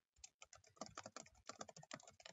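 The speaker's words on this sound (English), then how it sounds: "All I have to do is click next to it here and start typing" Rapid typing on a computer keyboard, a dense run of crisp key clicks and taps close up, steady and uninterrupted, with no voices.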